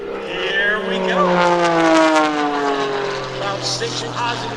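A Pitts aerobatic biplane (Wolf Pitts) at an airshow, its propeller engine droning loud and steady with a rising, shifting pitch as it dives and pulls up, a voice talking over it.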